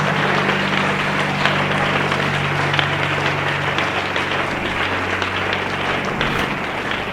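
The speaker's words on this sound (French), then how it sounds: "Acclamons encore très fort pour Jésus." A church congregation gives loud, dense applause for Jesus during a service, a continuous wash of clapping that holds steady for several seconds with a low hum beneath it.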